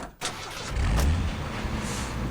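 Truck engine in the Full Throttle Remastered video game as the truck drives away, a short close rumble that builds quickly and then holds steady.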